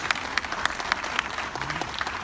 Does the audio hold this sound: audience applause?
yes